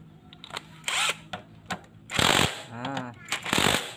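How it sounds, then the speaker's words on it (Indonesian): A power tool tightens the eccentric gear bolt on a fuel-injected Honda Revo motorcycle, sounding as several short, loud mechanical bursts at uneven intervals, separated by quieter gaps with small clicks and handling noises. "baru teman-teman kencengi bagian baut gear sentriknya yang ini"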